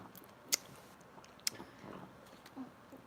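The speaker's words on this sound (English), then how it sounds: "And she's too busy chewing on her feet." A dog chews on its own feet nearby, giving soft wet gnawing and squishy biting sounds with two sharp clicks of teeth, fairly faint over a quiet room background.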